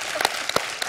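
Studio audience applause on a French TV quiz show, a short burst of scattered, fairly quiet hand claps with distinct individual slaps.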